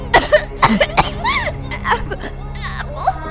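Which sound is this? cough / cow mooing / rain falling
cough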